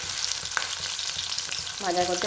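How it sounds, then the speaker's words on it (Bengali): Chili chicken pieces frying in a pan, a steady close crackling sizzle with a faint click early on and a brief tonal whine near the end; no talk. "এই যে আমি এখানে চিলি চিকেনের মাংসগুলো বসিয়ে দিয়েছি ভাজা করতে"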